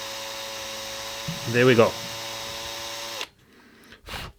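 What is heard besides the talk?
drill slowly opening a hole in a guitar pedal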